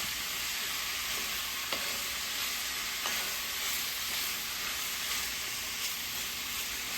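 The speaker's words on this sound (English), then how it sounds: "Handy wooden spoon. And I stir it around." A wooden spoon stirs farm-beef shepherd's pie filling in a hot pot, with a continuous even sizzle and faint soft spoon strokes, nearby and without speech.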